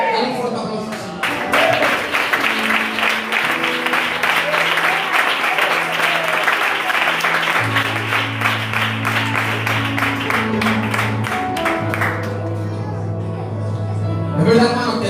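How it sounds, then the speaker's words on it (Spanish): A church congregation claps loudly and continuously for about fifteen seconds, with sustained keyboard or organ chords and bass notes playing underneath and a brief swell near the end. "Dale un fuerte aplauso al Señor."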